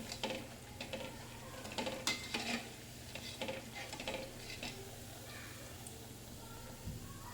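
Corn vadas (crispy makai na vada) frying in hot oil on a medium gas flame and being lifted out, with scattered clinks and scraping of a utensil over a steady low bubbling background.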